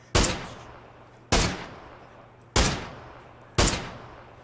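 Four evenly spaced heavy gunshots from a high-recoil weapon in the video game PUBG, each a sharp loud crack followed by a short decaying echo, about one second apart.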